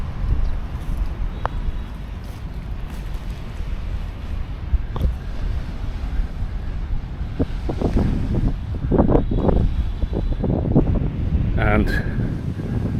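Wind buffeting the microphone and waves surging on an unguarded northern beach in Da Nang, a steady rough roar with louder wash toward the end, and a voice speaking intermittently over it.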